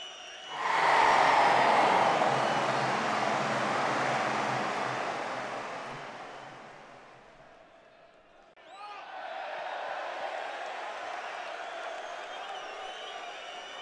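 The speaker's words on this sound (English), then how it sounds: "the game already starts with a lot of cheering" A large video game stadium crowd roars and cheers loudly, fades down over several seconds, then a fresh wave of cheering swells back up.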